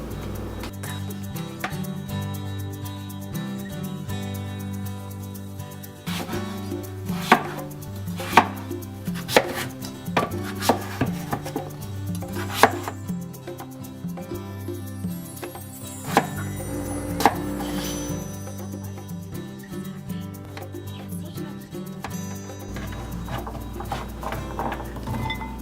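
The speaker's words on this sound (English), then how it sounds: "you want to chop the squash into cubes that are about half an inch thick or so" Kitchen knife cutting peeled butternut squash into half-inch cubes on a board, a run of sharp, uneven chops close up, set against steady background music.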